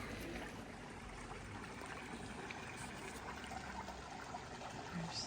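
Feet shifting in a cold pond give a steady, close watery trickle and soft sloshing that runs the whole time with no talk over it.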